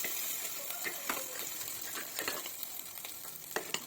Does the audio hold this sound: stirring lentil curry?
yes